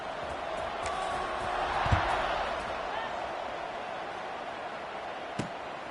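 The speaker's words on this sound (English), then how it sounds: "this crowd is buzzing after that last score" Steady crowd murmur fills a football stadium before a kickoff, a broad, continuous buzz from the stands with a couple of sharp thumps, while a commentator talks over it throughout.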